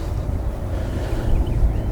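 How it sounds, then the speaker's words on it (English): Wind blowing hard across an open field on a cold, windy day, a steady low rumbling buffet of gusts against the microphone, loud and continuous with no talk. "So cold and windy."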